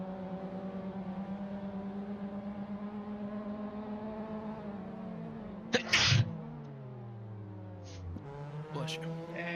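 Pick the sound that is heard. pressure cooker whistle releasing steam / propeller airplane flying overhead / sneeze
sneeze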